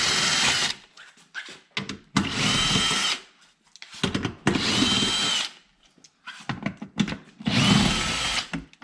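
A power drill removes the four bolts holding the air dam under the front bumper of a Chevrolet Corvette C7, whirring in four loud bursts of about a second each, separated by short quiet pauses.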